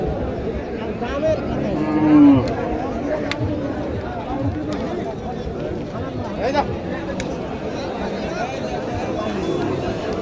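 Cattle crowd a livestock market at Chhatra haat in Niamatpur, Naogaon, with low moos rising now and then through a steady din of nearby chatter and people talking close by.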